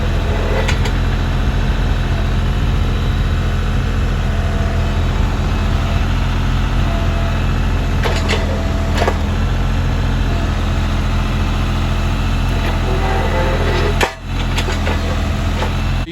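A compact tractor with a grapple runs steadily while moving oak logs, its engine a loud, constant drone with a few brief knocks and one short dip near the end.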